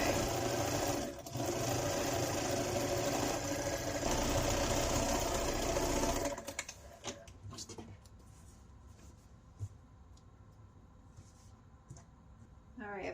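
A sewing machine stitches a fall pillow cover with a pumpkin quilt block, running steadily and fairly close for about six seconds, then stopping; soft handling noises and brief clicks follow in a quieter room.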